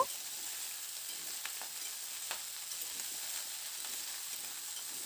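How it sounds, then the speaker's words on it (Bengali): Mixed winter vegetables fry with spices over a high-to-medium flame, giving a steady, even sizzle throughout with a few faint clicks from stirring and no voices. "সমস্ত সবজিগুলোকে দিয়ে মশলার সঙ্গে খুব ভালো করে হাই টু মিডিয়াম ফ্লেমে মিনিট কয়েক সময় ধরে বেশ করে একটু ভেজে নেব"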